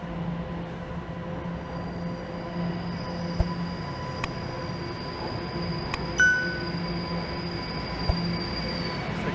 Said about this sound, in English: Train that's rolling in.